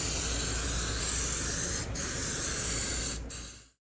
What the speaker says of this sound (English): now I'm going to be spraying some amazing mold release